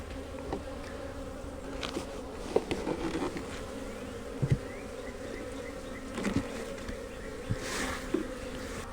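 Honeybees in an open beehive during an inspection give a steady, close droning hum with scattered louder buzzes from individual bees passing near, with no talking.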